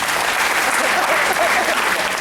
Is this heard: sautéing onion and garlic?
no